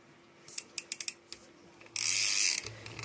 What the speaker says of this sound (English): I'm going to show you how the hub sounds.